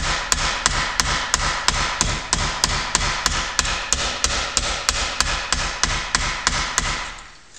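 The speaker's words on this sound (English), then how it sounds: "the next step now is just to take the soft blow hammer, keeping the form blocks together" A soft blow hammer strikes an aircraft rib held between form blocks for a Bearhawk, giving about twenty steady, evenly spaced loud thuds that stop near the end.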